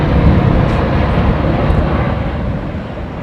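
An old jetliner on Rolls-Royce Trent engines roars loudly and close at London Heathrow, a dense broadband rumble that holds steady and then eases slightly, with no talk over it.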